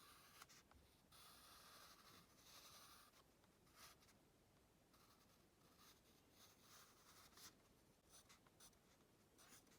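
Pencil scratching across paper in soft, intermittent strokes, faint and close, with short pauses between bursts of drawing.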